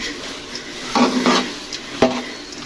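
Almonds and pistachios being stirred into chana daal pinni mixture, a few short scraping and clinking strokes of a spoon against the pan, close and moderately loud with quiet pauses between.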